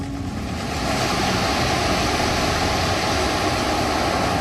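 Sea waves wash onto the shore beside a coastal temple in India, forming a loud, continuous roar of surf that swells slightly after the first second and stays steady, with no speech.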